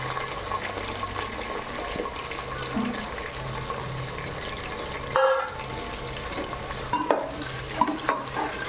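Red onions, green chillies and biryani spices fry in a pot for mutton biryani, with a steady soft sizzle and some stirring scrapes and knocks, close but quiet, and no talk.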